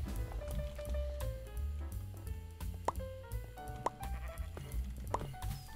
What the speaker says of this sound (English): highly explosive sheep